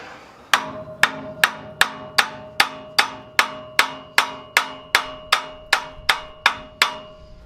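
Steady metal hammer blows land on a frozen alternator of a 1966 Ford F250 with a 352 engine, about fifteen sharp, ringing strikes in an even rhythm, close and loud with no talk.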